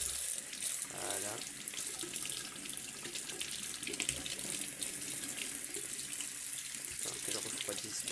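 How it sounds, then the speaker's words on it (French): Cold water runs steadily from a tap while layers of wood are being cooled, a continuous close splashing rush with no speech over it. "sur la seconde couche, vous remettez un coup d'eau froide parce qu'elle est toujours aussi chaude"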